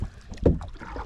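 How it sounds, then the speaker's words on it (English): A single canoe paddle stroke pulls through lake water in Polk County, Wisconsin, a brief close swish and gurgle against light wind noise. "we already switched to my regular canoe paddle"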